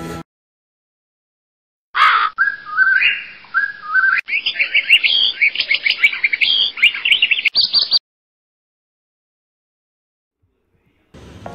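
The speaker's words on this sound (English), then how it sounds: "the crow is also listening to my lecture." A crow calls over and over at close range for about six seconds, a loud burst of harsh, chirping cries with no talk over it, surrounded by silence.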